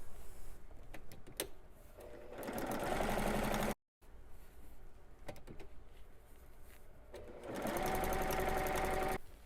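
A sewing machine stitches quilt scraps together in improv quilt-as-you-go piecing, running in two steady bursts with a short pause between them, close and clear with no talking.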